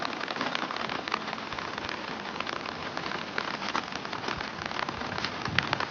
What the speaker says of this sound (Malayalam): ഈ ഒരു മഴ വരുന്നുണ്ട്